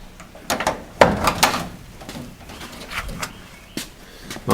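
Door of a Camaro drag car with regular handles being opened, giving a few close clicks and clunks of latch and hinge, with a sharper knock about a second in, then quiet.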